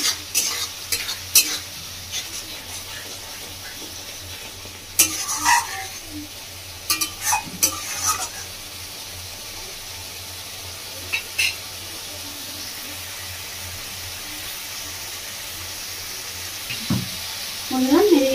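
Spice masala for Bengali-style whole urad dal fries in a pan while being stirred, a low steady sizzle broken by several sharp clusters of spatula scraping and clinking, with bursts louder at intervals.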